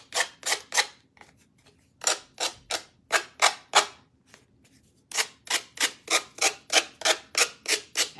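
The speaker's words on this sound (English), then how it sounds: "when you're sanding, you want to sand away from yourself" Rapid rhythmic scratching strokes of an emery board on a nail, close up, in three bursts with short pauses between them.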